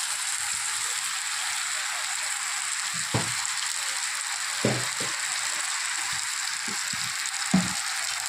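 Paneer curry with tomato sauce frying in a pan, a steady broadband hiss of sizzling with a few soft stirring knocks and scrapes at intervals, close and moderately loud.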